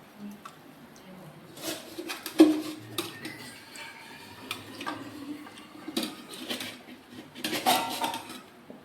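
Fried fish being moved from the pan into a dish, heard as scattered clinks and scrapes of utensils against pots and plates, close and intermittent, with faint bird calls in the background.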